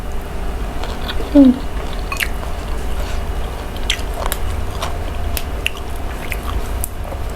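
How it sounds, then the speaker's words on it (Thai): Close, wet chewing and biting of stuffed frog with its small bones, eaten with hot rice, steady soft crunching and squishing bites with no talk. "มีตัวกบด้วย ก็ยังมีกระดูกให้เคี้ยวอยู่"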